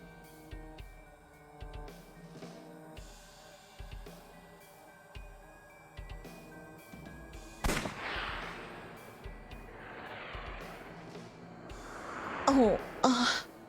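A gunshot in the adventure game AI: The Somnium Files, a sudden loud crack partway through over a quiet tonal game soundtrack, followed later by another sharp burst with ringing echoes.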